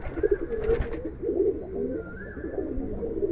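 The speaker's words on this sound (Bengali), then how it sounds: "এটা ট্রান্সমিটারের বড় ভাইয়ের বাসার কবুতর" Pigeons coo nearby in low, throaty, repeated calls, with a short flutter and faint rustling in the background.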